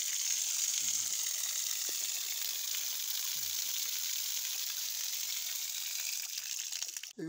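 Tap water pours steadily into a soak away outdoors, a constant hissing rush that holds evenly throughout and cuts off abruptly at the very end.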